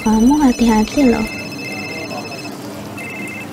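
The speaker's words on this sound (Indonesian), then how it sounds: "Oh, itu suara telepon." A telephone rings in the Food Truck Simulator video game, with steady repeating tones sustained through the clip, while a person talks loudly over the first second and a half.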